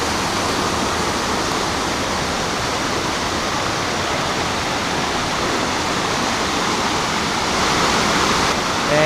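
Panther Creek Falls in the Cohutta Wilderness roars steadily from the top of the falls, a broad, continuous wash of rushing water that stays loud and even throughout.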